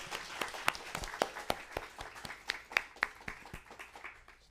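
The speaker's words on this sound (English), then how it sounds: "One more round of applause, please, for Karen." A small audience at a community media screening gives sparse, fairly quiet applause, individual claps distinct and irregular, thinning out toward the end.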